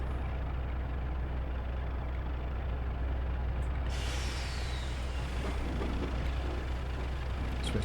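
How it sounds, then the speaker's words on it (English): A Class 35 diesel locomotive braking in Train Simulator 2020, a continuous loud, dense rush of brake air and rumbling engine noise, steady throughout with a brief hiss partway in, no talking. "Right, braking."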